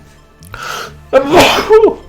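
A quick sniffing intake leads into one loud, close sneeze from a streamer, an explosive burst with a short voiced trailing note.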